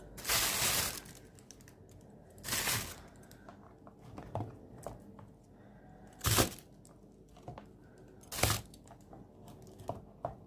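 Frozen lentil-filled pastries being gathered into a plastic bag, giving several loud crinkling rustles spaced a couple of seconds apart, with softer crackles and taps between them, close up and without talk.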